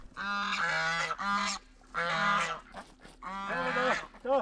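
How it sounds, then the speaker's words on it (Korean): Geese honking on a mountain farm, loud repeated nasal honks in three long bursts and a short final call, close to the listener with brief pauses between, and no talk. "밥때가 되면 시계처럼 울어대는 오리 2마리와 거위"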